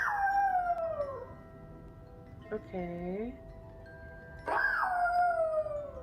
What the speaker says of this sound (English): He's howling. That's what dogs do.